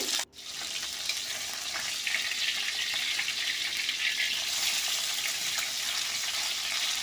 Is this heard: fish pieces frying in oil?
yes